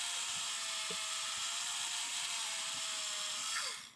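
A small drill bores a hole into a brass part for a Titanic scale model, giving a steady, high whining grind that runs unbroken for about four seconds and then stops.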